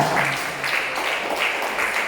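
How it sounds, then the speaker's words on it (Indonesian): Audience applause for a child named Samuel at a youth church talk, a modest patter of clapping that comes in soft waves for about two seconds with no voices over it. "wah tepuk tangan Samuel"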